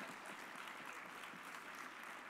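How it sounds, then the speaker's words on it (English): Steady, fairly faint applause from an audience at an awards banquet, a continuous even wash of clapping with no talk over it. "I think that deserves a round of applause,"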